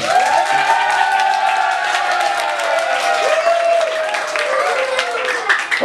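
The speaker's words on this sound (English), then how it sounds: "give Mickey a big round of applause" Concert crowd applauding for Mickey at a live show at The Grange, steady clapping and cheering filling the whole stretch while music tones ring underneath.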